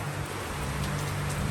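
Steady rain falls on a surface, an even close hiss of drops with a low rumble beneath and a faint bump near the end, no voices.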